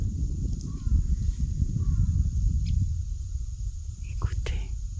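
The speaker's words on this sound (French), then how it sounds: "Donc on a un corbeau." Distant crow caws float faintly over a loud outdoor walk, with heavy low wind or handling rumble and a steady high hiss, and a few other soft bird chirps scattered through.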